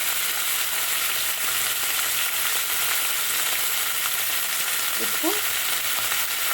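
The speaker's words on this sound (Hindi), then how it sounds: "देखिए जीरा तड़क गया, तो अब मैं इसमें डाल रही हूँ ये मटर और स्वाद अनुसार नमक।" Peas and salt tipped into cumin seeds crackling in hot oil, a dense continuous sizzle that stays loud and even throughout, with a brief spoken word near the end.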